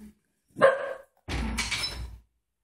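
A dog barks indoors, giving a short yip and then a longer, rougher bark with a whimpering edge, fairly close, with quiet around it.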